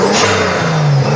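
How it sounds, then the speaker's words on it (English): A Forge Motorsport blow-off valve vented to atmosphere on an Audi S3 turbo engine, heard as a loud close rev with engine tone shifting and a whooshing release, brief and alone. "in this case, we're going with the Forge Motorsports blow-off valve."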